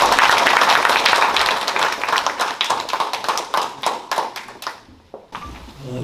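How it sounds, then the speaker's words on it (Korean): Audience applause at a Korean memorial-park tenth-anniversary ceremony: dense clapping from a crowd that thins into scattered individual claps and fades out near the end. "큰 박수로 맞이해 주시기 바랍니다."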